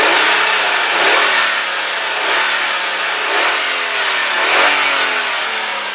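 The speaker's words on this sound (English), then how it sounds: "But here, listen up. I'll rev it up for you." Engine of a 2001 Hyundai Santa Fe GLS 2WD revving up in a few loud rises and falls close by, with no talking over it.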